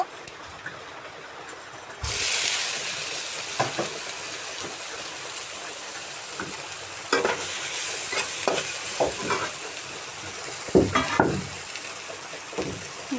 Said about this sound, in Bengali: সয়া দিয়ে চাউমিন করব তার জন্য সয়া সুন্দরভাবে ভেজে নেব